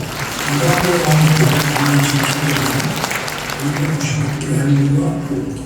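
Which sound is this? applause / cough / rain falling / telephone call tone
applause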